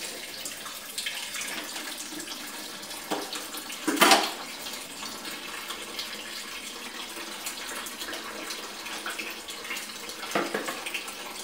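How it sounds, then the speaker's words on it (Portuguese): Pig's feet rinsed under a running tap while preparing feijoada, a steady hiss of water with a louder splash burst around the fourth second and another near the end, no talking. "se você lava assim também com água quente e água fria"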